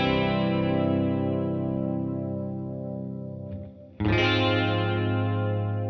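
An electric guitar run through chorus, distortion and echo effects rings out a long, shimmering sustained chord that slowly decays. Near the end a fresh chord is struck and swells back to full, bright volume.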